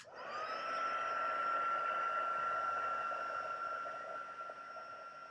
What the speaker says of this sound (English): Once your heat gun is warmed up,